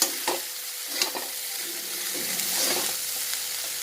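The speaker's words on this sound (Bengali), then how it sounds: "এবার ভাতটা দিয়ে একটু নাড়াচাড়া করবো" Leftover rice stirred in a pan for fried rice: scraping spatula strokes and soft sizzling, a few distinct knocks near the start, then a steady close rustling fry, no talking.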